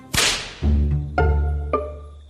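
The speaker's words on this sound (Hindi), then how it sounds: "चाचा ने हाथ पकड़ना चाहा तो एक झन्नाटे का थप्पड़" A hard slap sound effect, three sharp cracking hits, each followed by a ringing low tail that fades out, loud and alone without any voices.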